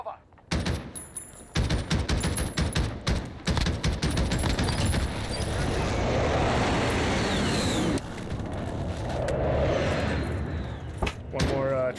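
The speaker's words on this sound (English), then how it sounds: "Enemy precision airstrike. Take cover." A precision airstrike lands in Call of Duty Modern Warfare, with bursts of rapid gunfire giving way to a sustained rumbling roar of explosions, then a second swell of blasts, while voices talk intermittently.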